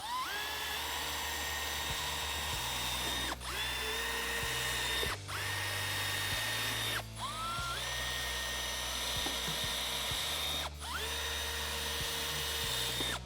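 Power drill boring through the insulated rear door panel of a 2022+ Nissan Frontier pickup, a loud close whine running in several long bursts separated by short pauses, pitch rising as each burst spins up.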